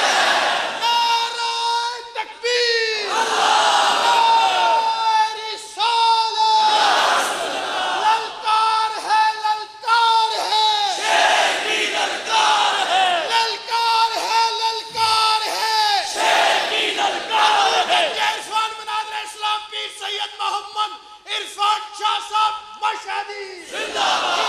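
A large crowd at a religious gathering loudly chants a response in unison, bursts of massed voices following a speaker's lead, with the speaker's amplified voice between the chants.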